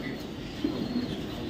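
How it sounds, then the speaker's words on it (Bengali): Pied racer pigeons coo softly, a low throaty burr rising once midway, faint and close, over a quiet background hum. "দুটোটাই পাইট কবুতর, ঠিক আছে। এটা হচ্ছে চেকার পাইট।"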